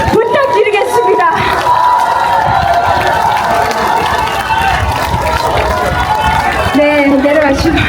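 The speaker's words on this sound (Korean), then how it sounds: "다시 한번 저희 지역위원장님들 한 분 한 분에게 다시 한번 큰 박수 부탁드리겠습니다" Loud, sustained crowd noise of cheering, shouting and applause at a political agreement-signing rally in Busan, dense and continuous throughout with voices mixed in.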